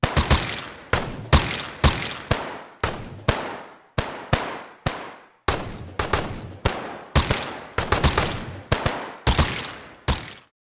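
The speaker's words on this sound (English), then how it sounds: "we could build each gunshot sound effect out of three individual files" A series of sharp video game gunshot sound effects rings out one after another at a steady pace, each crack loud and close with a short decaying tail.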